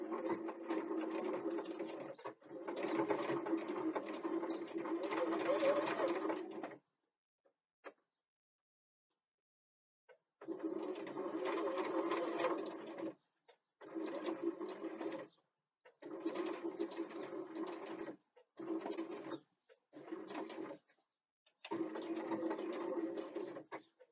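Sewing machine stitching a 3/8-inch seam on a bookbag backpack, running in loud steady bursts of rapid stitching separated by short pauses, with one long run at the start and several shorter runs after.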